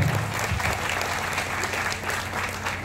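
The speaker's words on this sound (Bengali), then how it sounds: "ত্রিপাঠী বাবুকে করতালির মাধ্যমে একবার স্বাগত জানিয়ে" Audience clapping at the inauguration of an annual college cultural fest, a sustained burst of applause from a seated crowd filling the hall, loud and continuous with no speech.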